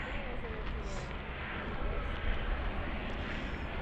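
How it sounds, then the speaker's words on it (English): An SAS ATR 72 turboprop airliner at Stockholm Arlanda Airport gives a steady, broad engine roar that fills the whole stretch, with slight swells in loudness. "this SAS ATR 72 is off to Östersund as SK 72"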